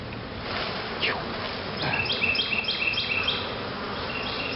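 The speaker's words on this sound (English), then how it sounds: "Bees!" Bees buzz continuously up close, the drone rising and falling as individuals pass, with faint bird chirps in the background.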